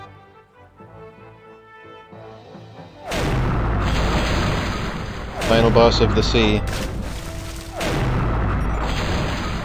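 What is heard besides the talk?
cannon fire from video game The Curse of Monkey Island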